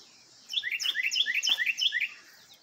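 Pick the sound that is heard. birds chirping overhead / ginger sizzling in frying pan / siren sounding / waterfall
birds chirping overhead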